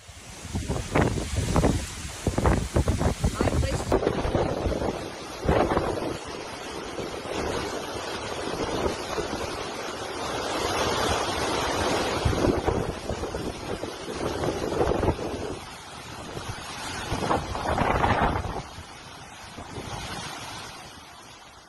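Hurricane Ian storm surge and extreme wind batter the Florida coast as a roar of wind buffets the microphone over rushing surf. Heavy gusts come and go in long swells, with no voices.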